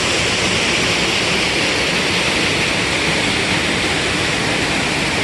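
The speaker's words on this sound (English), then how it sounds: "I can't believe we get this whole waterfall to ourselves today for lunch" A waterfall on Seneca Creek Trail at Spruce Knob, West Virginia, roars as a constant broadband rush of falling water, close and loud, steady without break and with no voices.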